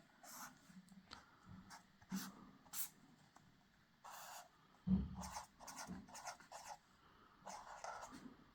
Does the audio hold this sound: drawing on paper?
yes